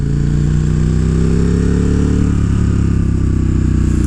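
A 2018 KTM 1290 Super Duke R motorcycle engine gives a loud, constant low rumble at close range, steady throughout with no voices.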